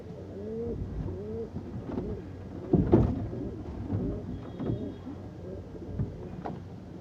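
Short-sized female kaldum pigeon cooing close by in a loft, a few soft rolling coos repeated over low background noise.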